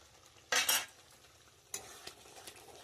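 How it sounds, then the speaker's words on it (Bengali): Palak paneer stirred in a pan over a faint simmer, with two sharp scraping strokes of a spoon against the pan, the first longer and louder, then quieter clinks. "একটু নেড়ে নিচ্ছি"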